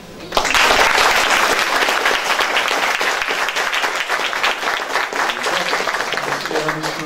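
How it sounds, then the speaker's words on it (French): Applause breaks out at a theatre company's general assembly, rising sharply into sustained, dense clapping from a full room that holds strong and then thins slightly toward the end. "Veuillez applaudir Clotilde Abbé."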